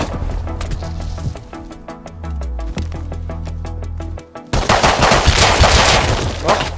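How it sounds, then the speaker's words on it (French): Gunfire coming from all sides in the survival video game Rust, rapid automatic bursts and single shots rattling close and loud, ending in a dense burst of noise. "ça me tire de tous les côtés"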